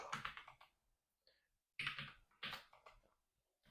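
Keys clatter on a computer keyboard as an nmap command is typed, quiet clicks in two short bursts separated by a pause, with no voice.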